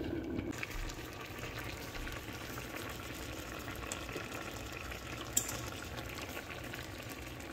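Green tomato milk curry, Jaffna style, simmering in a covered pot, giving a soft steady bubbling hiss at low volume with one brief faint click.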